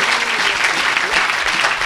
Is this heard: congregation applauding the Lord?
yes